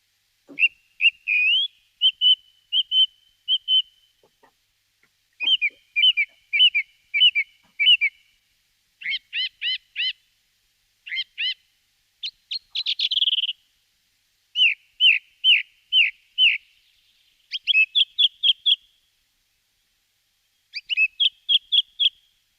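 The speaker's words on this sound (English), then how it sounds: "Song thrushes do vary in their song, but there's a basic sequence which you're going to hear now" A song thrush sings alone in a dawn woodland chorus, giving loud, clear whistled phrases that repeat in short bursts, each motif sounded several times and separated by brief pauses.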